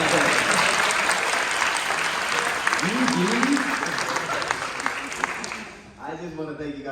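A live audience gives enthusiastic, dense applause and cheering that fills the space continuously, then fades as a speaker begins talking.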